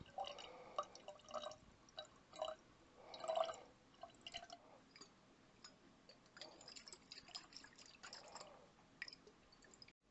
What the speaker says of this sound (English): So our water goes in.